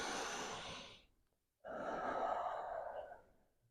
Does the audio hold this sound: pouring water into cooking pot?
no